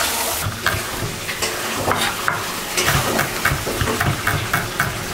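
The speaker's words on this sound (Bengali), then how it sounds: "আর এখানে খাসির মাংস ভুনা হচ্ছে।" Goat meat braising in a pan for an Eid meal, a steady loud sizzle and frying hiss with repeated scraping stir strokes throughout, no voices.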